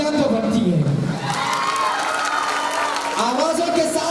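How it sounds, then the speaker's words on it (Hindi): A school annual day audience at MS Mission School applauds and cheers loudly together, a dense steady crowd roar with shouting voices over the clapping. "तालियां तो बनती है"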